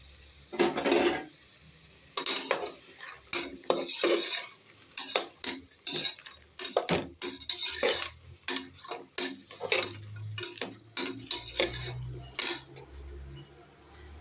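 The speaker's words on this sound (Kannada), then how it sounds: "ಸ್ವಲ್ಪ ಫ್ರೈ ಮಾಡ್ಕೊಳ್ಳೋಣ ಇದನ್ನು." A spoon stirs about 200 grams of green peas frying in a pan, giving irregular scraping and clinking strokes of metal against cookware with a faint sizzle underneath, close and fairly quiet.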